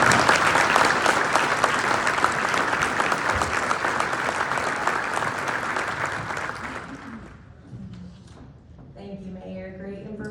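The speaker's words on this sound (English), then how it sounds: "let's give the mayor one more round of applause" Audience applause for a city mayor at a morning city update event, loud and sustained dense clapping for about seven seconds before fading, with a voice speaking afterward.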